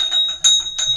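A bright notification bell chimes in a quick run of three metallic dings with a sustained ringing tone, loud and close, with no voices.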